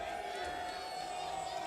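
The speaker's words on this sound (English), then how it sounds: "The crowd goes absolutely wild" Dense roar of an amateur MMA event crowd cheering wildly after a fight stoppage, loud and sustained, with a whistle-like tone running through it.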